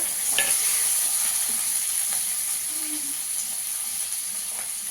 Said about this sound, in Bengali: টমেটোটাকে ভালো করে ভেজে নেবো পেঁয়াজের সঙ্গে